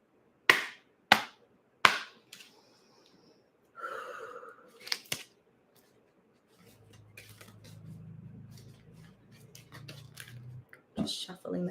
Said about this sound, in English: just shuffling the cards here